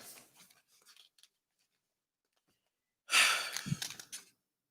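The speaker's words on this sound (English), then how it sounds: "Already breathing hard." A man breathes heavily, giving a long loud exhale or sigh after a quiet stretch, preceded by faint breathy sounds.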